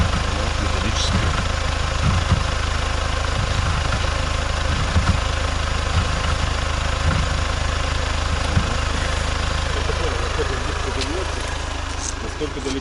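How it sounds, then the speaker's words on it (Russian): A tractor engine idles steadily near a lakeside wooden village, a constant low rumbling drone throughout while people talk over it. "Приехал трактор, ребята."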